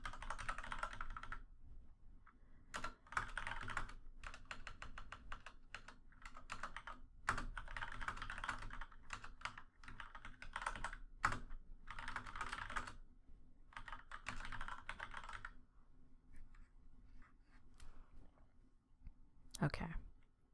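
Rapid clicking of mechanical keyboard keys in bursts with brief pauses, close by, and a louder clack near the end.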